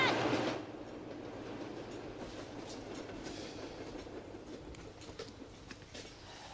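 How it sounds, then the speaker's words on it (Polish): A train passes with a steady rumbling roll and rhythmic clickety-clack of wheels on rails, fairly faint and distant, sustained throughout after a brief louder opening. "Pociąg!"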